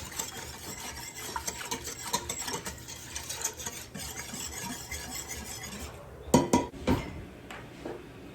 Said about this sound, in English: I'm going to give it a good stir again before I put in the next 2 wet ingredients.